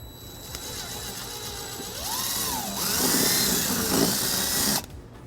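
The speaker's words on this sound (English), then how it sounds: "use a 3/16 drill bit to drill our first hole" A power drill with a 3/16 drill bit bores a hole into a 2020 Kia Sorento during a trailer wiring harness install, whining up to speed, straining steadily, then stopping abruptly.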